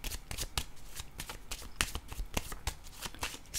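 Tarot cards are shuffled by hand close to the microphone in a rapid, steady run of crisp riffling flicks and soft slaps that continue throughout, with no speech over them.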